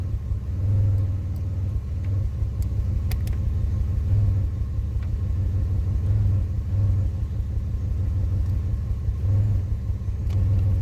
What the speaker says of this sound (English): This thing feels pretty bad on a single misfire.